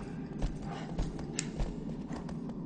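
A horse galloping in the video game Shadow of the Colossus, a steady rhythmic clip-clop of hooves over a continuous low rumble, moderately loud with no voices.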